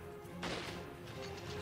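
An explosion in the 3DS game Resident Evil Revelations: one sudden, heavy crashing burst that dies into a rumbling wash under the game's steady background drone.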